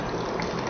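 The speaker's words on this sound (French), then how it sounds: "Je vais renverser cette eau, passer dans le gobelet" Water poured from a container into a cup, a short steady splashing gush at moderate level with no voices.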